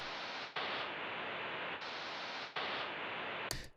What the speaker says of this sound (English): So this is just ambient noise from my sample pack again,